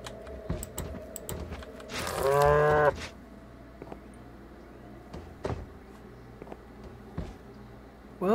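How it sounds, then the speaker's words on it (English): A cow in the Minecraft video game gives one loud, drawn-out moo lasting under a second, standing out clearly over a quiet game background with scattered small clicks. "Was that a cow?"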